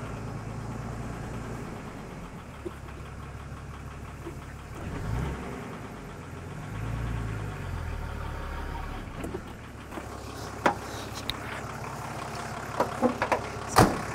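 A 4x4 in low-range four-wheel drive crawls up an obstacle, its engine rumbling low and steady throughout, with occasional knocks and clunks from the vehicle near the end.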